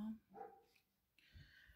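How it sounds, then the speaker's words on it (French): A dog barking indoors, a couple of short yelps and whimpers, faint and brief, with a quiet pause between them. "mon chien qui n'arrêtait pas de gueuler"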